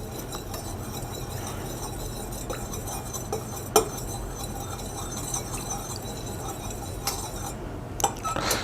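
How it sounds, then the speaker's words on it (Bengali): A utensil stirs glycerol into a homemade hand sanitizer mixture, giving steady scraping and faint clinks against a container over a constant background hiss, with a few sharper taps scattered throughout. "আমরা গ্লিসারল দিয়েছি এবং এটাকে আমি সুন্দর করে নেড়ে নেব"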